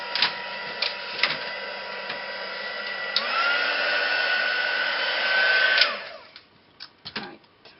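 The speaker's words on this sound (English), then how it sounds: "heat gun goes on." A heat gun blows hot air onto a mixed-media craft tag, a loud, steady whirring hiss with a whine that rises in pitch partway through, then cuts off, followed by a few light clicks and taps.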